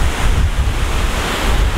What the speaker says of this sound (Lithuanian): Vėjas tai kosminis.